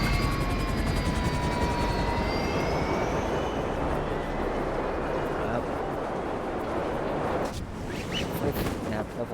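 An airplane in the video game GTA FiveM drones with a steady, loud engine roar that fades slightly, with a voice talking over it.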